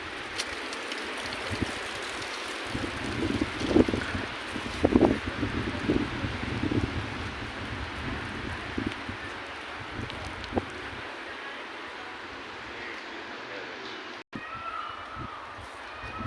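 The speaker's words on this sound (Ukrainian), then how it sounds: "Але такий вітер, що треба окуляри одягати." Strong wind gusts roar across an open-air mini zoo in Guadalajara, Spain, a steady broadband rush buffeting the microphone for the whole stretch, with a few brief louder knocks and rustles early on and no clear talk.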